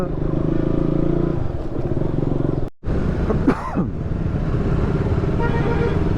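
A motorcycle ridden through congested traffic, with a steady engine drone close by, a short dropout midway, and a brief rising and falling vehicle pass or horn before the drone resumes.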